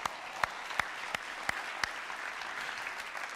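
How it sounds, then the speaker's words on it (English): Church congregation applauding the Lord during a sermon, a dense spread of clapping with several distinct nearby claps landing roughly every third of a second, even in volume, with no talk over it. "we can give the Lord a round of applause"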